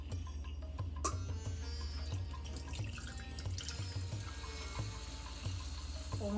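Water splashes steadily from a tap over a small batch of flattened rice (poha) being soaked for semolina poha uttapam, a continuous close pouring with faint drips throughout and no voices.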